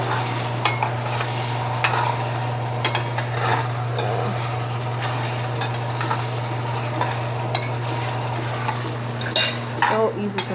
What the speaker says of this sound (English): They're so easy to fry, guys.